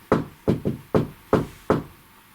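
Six sharp knocks on a hard surface in an irregular pattern, close and distinct, with quiet pauses between them.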